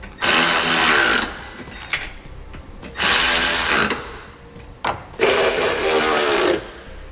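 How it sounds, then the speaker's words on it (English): Power tool driving trailer hitch bolts tight on a 2015 Volvo XC70 during a Draw-Tite Max-Frame hitch install, three loud close whirring bursts of about a second each with short pauses and brief blips between. "we'll tighten down the bolts"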